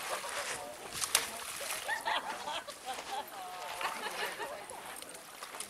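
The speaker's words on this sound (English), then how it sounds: "my son just walked right in the water" A boy wading into cold water on a hike at Catalina State Park, with scattered splashes and sloshing under steady outdoor background noise.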